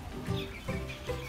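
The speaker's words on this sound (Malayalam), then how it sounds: "ഇത് നമ്മൾ വീട്ടിലൊക്കെ വളർത്തുന്ന കോഴിയാണ് കേട്ടോ" A domestic chicken at a pet shop in Japan clucks softly three times in a steady, evenly spaced rhythm, faint and a little distant against quiet shop noise.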